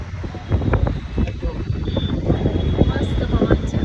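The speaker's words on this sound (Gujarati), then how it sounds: "ગજબ ઠંડો પવન છે." A cool natural wind blows outdoors near a home, rumbling steadily across the microphone as a continuous, fairly loud buffeting, with a voice talking over it.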